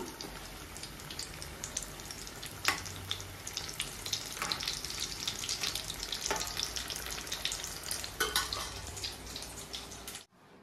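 Aloo bread rolls deep frying in hot oil give a steady, dense bubbling crackle with a few sharper pops and spatters, continuous and fairly close, cutting off abruptly at the end.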